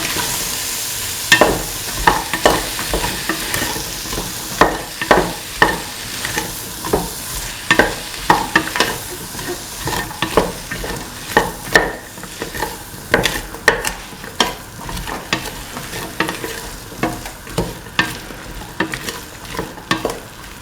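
Soy chunks and ash gourd are sautéed in a pan for a coconut milk stew, with a steady sizzle and frequent sharp scrapes and taps of a spoon stirring close by, without any talking.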